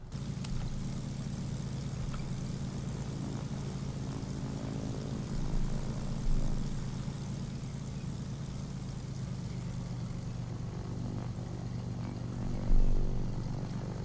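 Vintage DC-3 propeller airliner engines in the airport management game Airport CEO, a continuous low, throbbing drone that holds steady and loud with a couple of brief surges, no voices over it.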